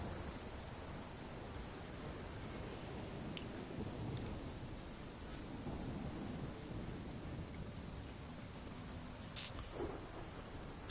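Rain falls in the video game The Witcher 3 as a faint, steady wash of broadband patter under an overcast sky, with one brief, sharp high click near the end.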